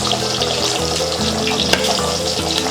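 Four lengthwise-slit green chillies fry in hot oil with popped mustard seeds and fennel for a Kerala-style chicken curry. A close, continuous sizzle carries a single sharp crackle partway through, and no voices are present.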